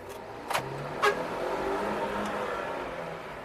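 A 2019 Daihatsu Xenia 1.3 manual engine revs up accelerating in first gear with the air conditioning off, a steady rising drone heard from inside the cabin, with a couple of brief clicks early on.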